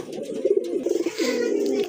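A pair of pigeons coos softly nearby, with a few low, throaty coos rolling one into the next over about two seconds.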